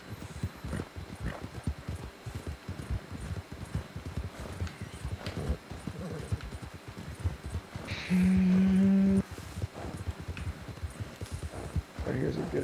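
Galloping horse hooves in Red Dead Redemption 2 Online, steady rapid clip-clop beats running throughout, with players chatting over them and a brief tonal game sound midway.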